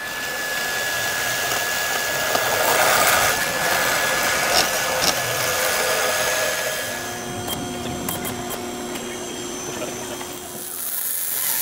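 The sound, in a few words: power tool cutting a Trick T4 turbo manifold pipe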